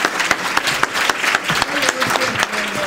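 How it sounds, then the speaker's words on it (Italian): Theatre audience applause during a stage comedy, lively and close clapping from many hands with distinct sharp claps in an uneven rhythm, filling the room. "Prego, un grosso applauso a donna Silva, tu!"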